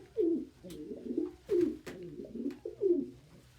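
Indoor pet pigeons or doves coo in a steady, repeating rhythm of soft, low, throaty calls, close and fairly gentle, with a few faint clicks between phrases.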